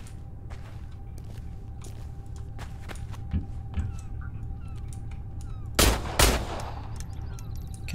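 Gunfire in the video game Industria: a string of sharp, fairly quiet shots over a steady hum, ending in a louder, closer burst of firing.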